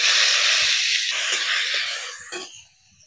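Chopped onion hits hot mustard oil in a kadai and sizzles loudly, a bright hiss that holds steady, then fades toward the end, with faint stirring knocks beneath.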